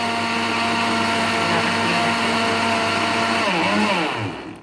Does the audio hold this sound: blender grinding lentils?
yes